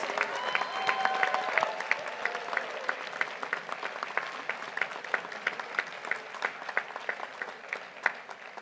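Sustained applause from the audience at a midyear graduation ceremony for Gettysburg College graduates, steady dense clapping with individual sharp claps standing out throughout, loud and continuous with no voices over it.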